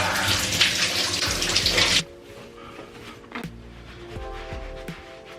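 Water runs hard for about two seconds at close range, then stops, leaving quiet room sounds and faint knocks.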